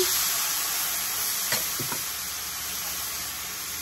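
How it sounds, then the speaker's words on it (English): Wine poured into a hot skillet with browned bits left from chicken, giving a steady bright sizzle and hiss throughout, with a few faint clinks near the middle. "So into the skillet, I'm leaving all the good bits in there. I'm gonna add our wine."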